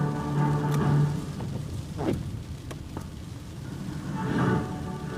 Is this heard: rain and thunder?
yes